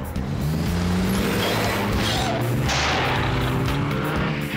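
Cartoon car revving as it switches into sport mode, a loud continuous engine roar with rising tone and a tire squeal, played alone.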